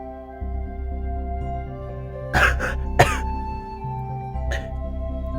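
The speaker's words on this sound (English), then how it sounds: "there was some coughing" A person coughs and clears their throat while trying to provoke a sneeze with a Q-tip in the nostril. Two harsh bursts come close together, then a softer one, over a steady background hum.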